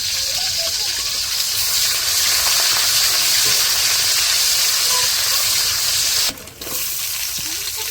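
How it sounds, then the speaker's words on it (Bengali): Garlic, cinnamon and cardamom sizzle steadily in hot oil in a village home kitchen, a close, continuous frying hiss that briefly drops out near the end before resuming. "তেলের মধ্যে হালকা ভাজে দিব"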